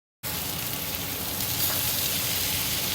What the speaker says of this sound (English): Beans are refrying.